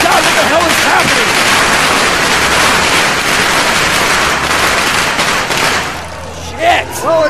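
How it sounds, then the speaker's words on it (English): Fireworks and firecrackers crackle and pop in a dense, loud barrage at a wrestling anniversary show entrance, a continuous rapid rattle of bangs that thins out near the end, with crowd noise and voices underneath. "What would it be without some fireworks, Christian?"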